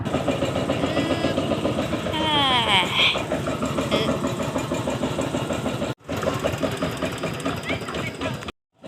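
A farm tractor engine runs steadily on a rural plot, a continuous mid-pitched rumble that is interrupted briefly near the end, with people talking over it.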